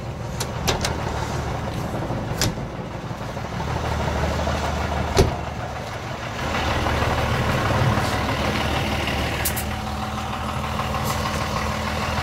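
After a diesel refuel at a Polish fuel station, a car's engine idles and pulls away, a low steady rumble with occasional clicks and knocks, the motor note shifting as it drives off.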